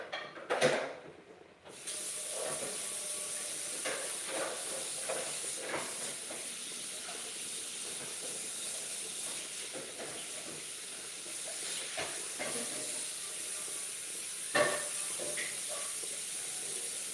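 Peppers frying in a pan on a home stove, a steady, even sizzle and hiss that runs unbroken throughout, close by, with a few faint clinks and knocks of cooking utensils and no talk.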